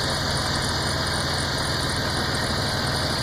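A Chrysler Town & Country with a 3.8 engine idles with a misfire, giving a steady close mechanical drone with a faint irregular knock and no talk.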